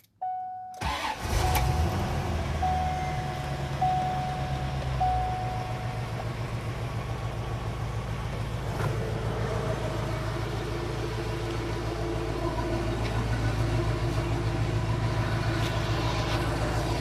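A C4 Corvette fitted with a Flowmaster 40 series exhaust cranks briefly and fires up, then settles into a steady, deep, throbbing idle recorded close by, with no talking.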